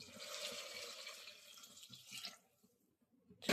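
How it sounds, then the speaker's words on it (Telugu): Water pours into a pot of moong dal khichdi on high flame, a close, quiet splashing stream that tapers off partway through, then a brief louder splash at the end. "వాటర్ పోసేస్తాం, అయిపోయింది"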